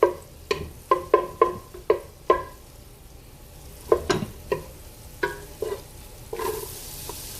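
Onions frying in olive oil in a pot, heard as a run of sharp scraping and clacking hits, roughly one every half second, over a low steady sizzle, close and clear with no talking.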